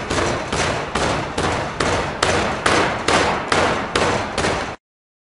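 Sand rammed tight into the corners of a metal-casting flask box: about ten heavy, evenly spaced thuds, loud and close, with no voices.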